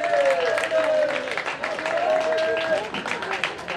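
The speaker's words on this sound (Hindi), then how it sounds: "साथ तालियां मारते हैं" An audience at a cricket festival presentation ceremony claps continuously in a lively burst, with voices and calls mixed into the applause.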